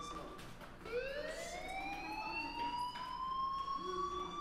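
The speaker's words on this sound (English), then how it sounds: "do you hear that fire alarm?" A fire alarm wails inside a school in the video game Life is Strange, a rising, steady siren-like tone at moderate loudness that keeps sounding without talk.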